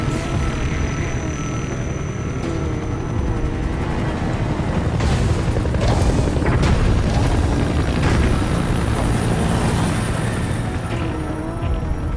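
A support helicopter arriving in the video game Metal Gear Solid V: The Phantom Pain, a steady loud rotor drone with booming rumble and game effects layered throughout.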